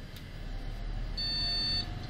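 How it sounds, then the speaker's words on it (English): A faint electronic computer POST beep, continuous from improperly seated RAM, sounds steadily for under a second over a low background hum. "Now suppose the RAM isn't connected properly, you get a continuous beep."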